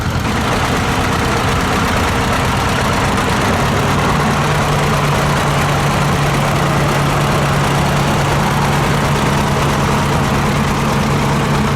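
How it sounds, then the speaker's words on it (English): A 1956 John Deere Model 70 diesel tractor runs at a steady, loud, close idle at an outdoor threshing show in Edgerton, Wisconsin, with a constant low rumble and no pauses. "Here we've got a diesel version of the John Deere Model 70."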